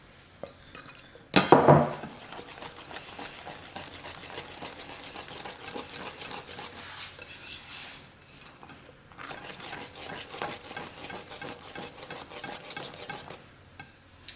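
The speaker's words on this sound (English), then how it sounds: "Now I'm going to take the dry and slowly mix it in with the wet" A spoon or spatula stirs dry ingredients into wet pumpkin bread batter in a bowl, with a sharp knock near the start followed by steady scraping and soft clinking against the bowl, no talking.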